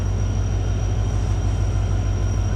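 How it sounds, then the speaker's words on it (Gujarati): An Indian Railways Porbandar–Bhavnagar train hauled by a WDP 4D diesel locomotive from Sabarmati at a station, a loud, steady low diesel rumble with a faint high whine, constant for the whole stretch and without talk. "અત્યારે આવી ગઈ છે ભાવનગર ટ્રેન અને બહુ આગળ જ ઊભી રાખી દીધી છે"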